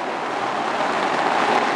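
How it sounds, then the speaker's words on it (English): Water rushes down into an underground sewer below a city street, a steady hissing, airy roar heard close and continuous with no talking. "you can actually hear the sound of the water rushing down below."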